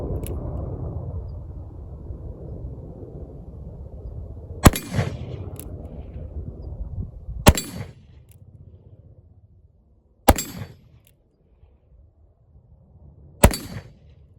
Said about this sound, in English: I got 4 shots left of the 38 short Colt.